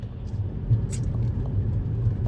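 Road traffic with many vehicles in Canada, heard as a continuous low rumble of passing cars with a faint hiss of tires, moderately loud and steady, with no talk.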